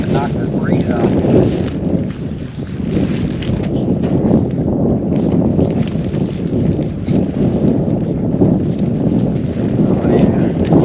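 Heavy wind buffets a microphone beside a river island campsite with a simple lean-to, a constant loud rumbling roar with gusty surges and no pauses.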